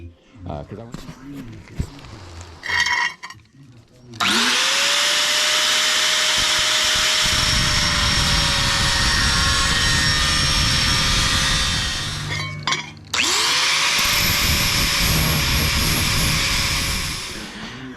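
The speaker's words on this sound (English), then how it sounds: "I'm going to go ahead and shut this off and grind." Grinding metal on a homemade ATV field cultivator, cleaning mill scale: a loud, steady high-pitched angle grinder whine runs for long stretches, cutting off briefly and spinning back up, with short talk at the start.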